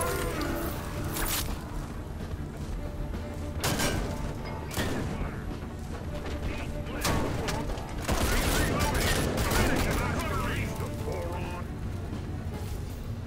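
Gunfire in the shooter game Raiders of the Broken Planet, with dense bursts of shots and booms running continuously under a player's talk throughout.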